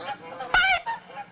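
A single loud goose honk bursts out, brassy and nasal, between quieter honking calls from nearby fowl.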